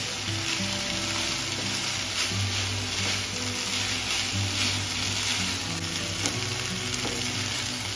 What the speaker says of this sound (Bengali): একটু ভাজা ভাজা করে নামিয়ে নেব